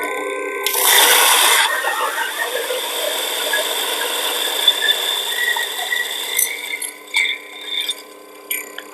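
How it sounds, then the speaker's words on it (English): A Baby EK coffee grinder grinds about 10 grams of beans at its lowest speed of 1004 RPM, opening with a loud rough burst of grinding that settles into a steady high motor whine with faint rattles near the end. "I'm going to grind at the lowest RPM of 1004."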